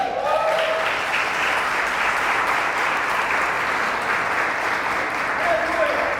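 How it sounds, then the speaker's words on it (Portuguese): A church congregation applauds steadily for several seconds, a dense, loud wash of clapping from many hands filling the room, with a voice speaking over it at the start and end. "dá um aplauso a Jesus"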